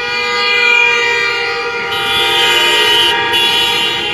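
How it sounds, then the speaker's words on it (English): Car horns honk loudly and continuously during a street celebration in Harare, sustained tones layered together, close and without talk. "So there's serious hooting going on, honking of horns."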